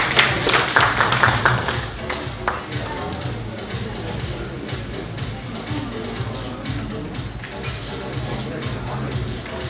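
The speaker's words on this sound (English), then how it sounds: "Give him a big round of applause." Applause for an award recipient on stage at a Middle East leadership awards ceremony, a dense patter of clapping that starts strongest and continues steadily under a voice on the public address.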